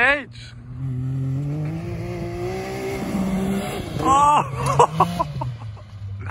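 Can-Am X3 Turbo RR side-by-side revving on a backyard dirt track, its engine pitch climbing steadily and then surging with sharp bursts near the end, loud and close.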